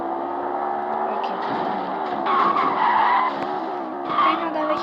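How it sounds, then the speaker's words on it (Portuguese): Car tyres skid and squeal in a racing video game, a continuous screech layered over a steady engine drone that swells in several bursts. "Ele anda um pouquinho assim mais leve, mas ele derrapa. Ele derrapa um pouquinho."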